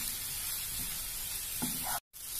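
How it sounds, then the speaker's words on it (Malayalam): Tomatoes sautéing in a covered pan until mushy, a steady sizzle and hiss of cooking at moderate level, with a brief soft knock near the end before a short cut to silence. "അതും നല്ലോണം മാഷാവുന്നവരെ ഒന്ന് വഴറ്റിയെടുക്കാം"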